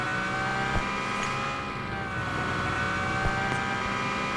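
Car engine in the mobile battle-royale game PUBG Mobile, a steady droning hum with a faint rev swell, continuous throughout under a wash of in-game background noise.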